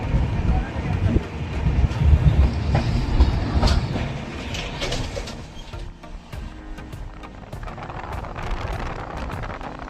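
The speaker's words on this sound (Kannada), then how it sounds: "ನಾವು ಹೊರಡುವ Vasco Yeshwanthpur express 11:40 Madgaon railway station ಇಂದ ಬಿಟ್ಟಿದ್ದಾರೆ" Vasco–Yesvantpur Express (17310) pulling out of Madgaon railway station, with a loud rumble and rattling wheel clatter up close that eases off slightly as it moves, joined by scattered clanks and squeals.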